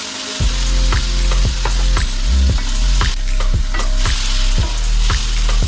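Green beans sizzle and fry in a pan, a loud close hiss with repeated scraping stir strokes, no one talking.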